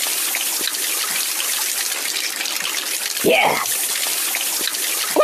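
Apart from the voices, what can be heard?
water splashing in Kick The Buddy video game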